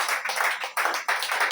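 Church congregation applauding in bursts of clapping, a dense patter of many hands that swells in roughly three waves over a short span.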